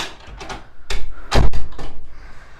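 A painted bedroom door swings open with a short burst of rattling and knocking, loudest in one solid thud near the middle, among a few lighter clicks and creaks nearby in a quiet room.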